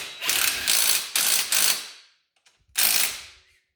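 Ratchet wrench tightening the bolts of a missing link, fitted with blue Loctite: four quick close clicking bursts, a short pause with a faint tap, then one final ratcheting burst that fades out.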